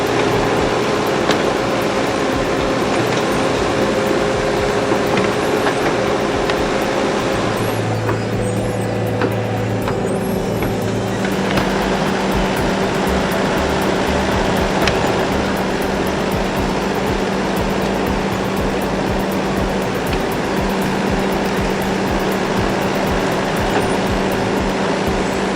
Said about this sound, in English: It's astonishing to see this excavator tackle treacherous ground, teetering on the edge with every move